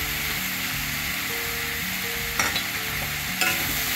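Broad beans being mixed into hot oil in a pan give a steady, close sizzle of frying with a few sharp scraping clicks from stirring near the end, and no voices.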